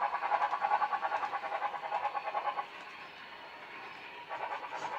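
A BLI model train sound system puffing out rhythmic chuffs in fast even beats, which then fade into a steady hum before the chuffing picks up again.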